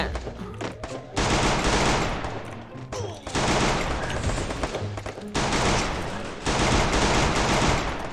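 Bursts of rapid automatic gunfire from a Free Fire battle-royale match, three or four long sustained volleys separated by short pauses, fairly loud and close, with faint speech underneath.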